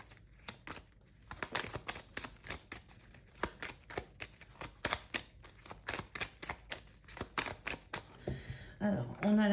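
Tarot cards are shuffled by hand for a reading in quick, crisp riffling bursts, a steady rhythm of sharp flutters close to the microphone, with a voice briefly heard near the end.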